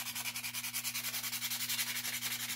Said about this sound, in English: start sanding the coating off of it